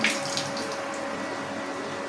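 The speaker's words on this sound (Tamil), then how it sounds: "இப்போ இது கூட தண்ணி சேர்த்துக்கலாம்." Water pours into a pan of South Indian egg curry (muttai kulambu) with a continuous splashing, tap-like stream, close and steady and fairly quiet.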